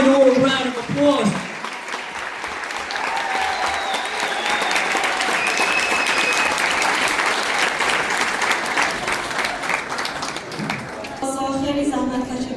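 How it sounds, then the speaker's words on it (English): An audience gives a long round of applause at a community gathering, with dense, steady clapping filling most of the clip. A voice speaks briefly before it swells and again as it fades. "Let's give them one big final round of applause."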